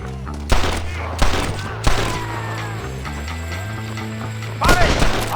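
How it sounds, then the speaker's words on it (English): Gunfire in Red Dead Redemption: four sharp, loud shots spaced about a second apart, then a longer burst near the end, over a low droning score with brief talk in the background. "Follow me, we'll shoot our way in there."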